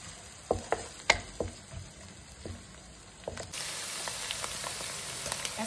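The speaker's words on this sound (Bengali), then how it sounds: "অ্যাড করে দিচ্ছি পেঁয়াজ বাটা, কাঁচা স্মেলটা পেঁয়াজের যেন না আসে সে পর্যন্ত ভেজে নেব" Onion paste frying in oil for Bangladeshi shahi chicken pulao, opening with separate spoon taps and scrapes in the pan, then a steady close sizzle as the paste hits the oil.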